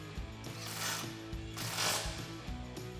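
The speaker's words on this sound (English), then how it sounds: "reinstalling that 10 millimeter bolt and tightening it up with that 10 millimeter socket" A ratchet and 10 mm socket tightening a brake line bolt during a leveling kit install on a Jeep Wrangler JK, a steady rapid clicking of the pawl in short repeated strokes, close but fairly quiet.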